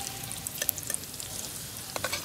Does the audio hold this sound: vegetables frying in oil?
yes